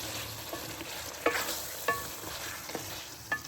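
Mutton for aloo gosht frying over a high flame, a steady close sizzle broken by a few sharp clinks of a spoon stirring the pan.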